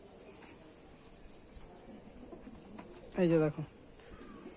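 A short coo from wing-clipped adult pigeons, including black chatiyal birds, rises briefly near the end, while someone speaks over a soft background hum.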